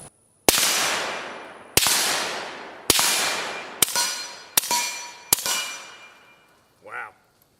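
Six suppressed shots from a 300 Blackout rifle, the first three supersonic and the last three subsonic rounds, each a sharp loud crack with a ringing tail, spaced about a second apart, followed by a short metallic clank.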